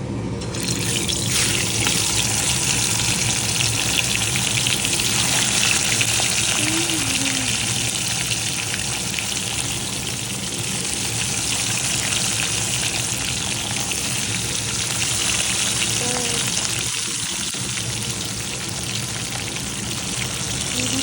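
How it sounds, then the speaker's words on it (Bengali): Tangra fish frying in hot oil in a pan that is covered now and then, giving a steady, dense sizzle that runs unbroken throughout with faint low background sounds. "ট্যাংরা মাছ যেহেতু খুব ফাটে ওই জন্য ঢাকা দিয়ে দিয়ে ভাজছি মাছটাকে।"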